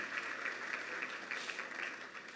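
Congregation applauding during a church service in the gallery and pews, a steady wash of dense clapping at moderate level, faint throughout with no clear voices.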